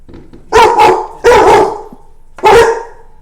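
Dogs bark close and loud in reply to fireworks being let off, three sharp bursts with the first a quick double bark, spaced about a second apart with faint room noise between them.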